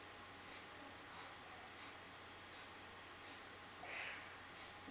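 Short, sharp nasal sniffs repeat in a steady rhythm about every two-thirds of a second during a Strelnikova breathing exercise for asthma, faint and close, with one slightly louder sniff near the end.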